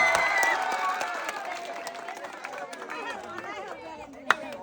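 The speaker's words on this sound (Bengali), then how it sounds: "সবাই আরো একটা জোরে তালি হবে ভাইয়ের জন্য" Crowd applause with scattered clapping and chatter, fading somewhat over the seconds, with a couple of sharp claps near the end.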